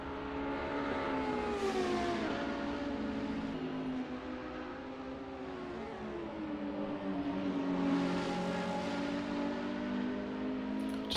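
Audi and McLaren race cars in a sim racing game at Road America give a steady engine drone with shifting pitch, rising in two louder revving sweeps, and no talk.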